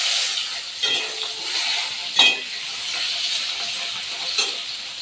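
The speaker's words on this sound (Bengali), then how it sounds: "কাঁচা লঙ্কা পেঁয়াজ কুচি একসঙ্গে ভেজে নেবো।" Chopped onion and green chili fry in a pan with black cumin for a hilsa fish curry, giving a steady, close sizzle broken by a few light stirring clinks, with no talking.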